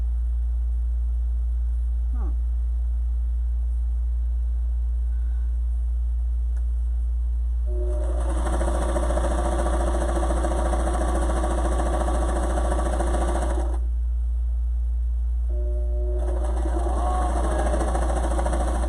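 A sewing machine stitches through felt for a fabric mask, running in two steady mechanical bursts of whirring needle action, the first about six seconds long and the second starting after a short pause.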